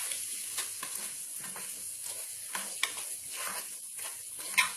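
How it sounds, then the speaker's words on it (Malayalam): Chicken being stirred into masala in a pan for Palakkad biryani: a steady soft sizzle with scraping stir strokes and an occasional sharp spoon knock against the pan, close up, with no talking. "ഇതിലേക്ക് നമുക്ക് ചിക്കൻ ആഡ് ചെയ്ത് കൊടുക്കാം നന്നായി മിക്സ് ചെയ്യാം"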